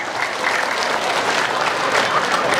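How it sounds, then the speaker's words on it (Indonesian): An audience claps for children at a school local-curriculum launch event in Solok, Indonesia: a short, even burst of many hands, fairly loud and close, with no speech over it. "Ulangi tepuk tangan buat anak-anak kita."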